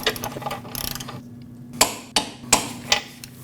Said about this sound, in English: And then torque that nut at 41 foot-pounds.